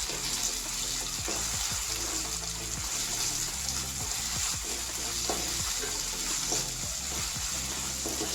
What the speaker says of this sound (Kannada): ನಂತರ ಸಣ್ಣಗೆ ಹೆಚ್ಚಿದ ಟೊಮೊಟೊವನ್ನು ಸೇರಿಸಿ ಅದು ಮೆತ್ತಗಾಗುವವರೆಗೂ ಮತ್ತು ಎಣ್ಣೆ ಬಿಡುವವರೆಗೂ ಚೆನ್ನಾಗಿ ಬೇಯಿಸಿಕೊಳ್ಳಿ.